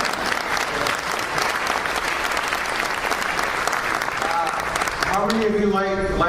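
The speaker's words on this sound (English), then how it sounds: "That's a good time for a round of applause." A crowd at an interfaith dinner breaks into loud, sustained applause, a thick continuous clatter of many hands, until a voice begins speaking over the fading clapping near the end.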